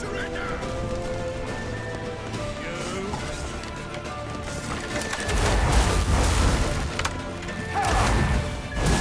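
Horse hooves clatter and gallop in a medieval city chase from The Witcher 3: Wild Hunt, with wooden crashes and splintering, shouting voices and game music around them; the commotion grows louder in the second half.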